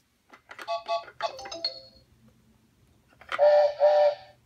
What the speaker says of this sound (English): Here comes the Learning Fisher-Price train.